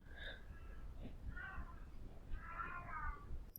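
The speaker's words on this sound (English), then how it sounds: "Our kitty is meowing sadly." A pet cat meows three times in a plaintive, drawn-out way, fairly close and clear over a low background hum, with no talking.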